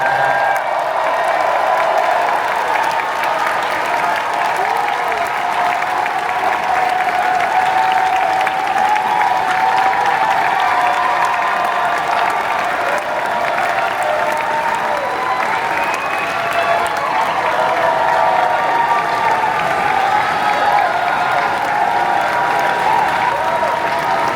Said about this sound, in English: I want you to give a big round of applause to the good folks from Tron Aries.